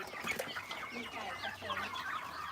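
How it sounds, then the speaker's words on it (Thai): Chickens cluck and chatter continuously nearby, several birds overlapping in a busy, irregular rhythm at a moderate level. "ตรงนี้จะมีไก่บ้านด้วยนะครับ"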